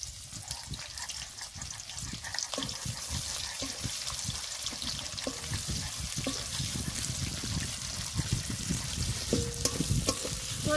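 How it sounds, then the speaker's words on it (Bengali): Sliced onions fry in oil to make birista for a Bengali fish curry. The sizzle is close, dense and bubbling, with scattered crackles and stirring noises, and it grows slightly louder over time without any speech. "পেঁয়াজগুলো ভেজে ব্রেস্তা বানিয়ে নেব"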